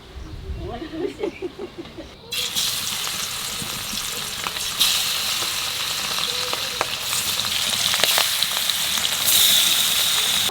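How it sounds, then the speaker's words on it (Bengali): Hilsa fish and eggplant fry in hot oil: after a brief lead-in of lighter crackles, a loud, dense sizzle bursts in and keeps spitting and popping up close. "এইবার ইলিশ আর বেগুন ভাজিয়ে নেব।"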